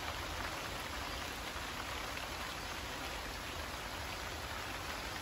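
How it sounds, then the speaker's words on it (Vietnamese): Steady rain falling outdoors beside a water spinach vegetable patch in rural Dong Thap, Vietnam, during the flood season: a dense, even hiss of drops that holds at one level throughout, with no voices. "Giờ cũng còn mưa. Về nãy giờ vẫn còn mưa."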